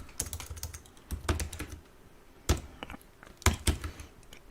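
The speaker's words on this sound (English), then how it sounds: "Now I'm gonna type" Typing on a computer keyboard while entering AWS commands, with irregular bursts of sharp key clicks, several louder isolated strikes and short pauses, close and clear with no talking.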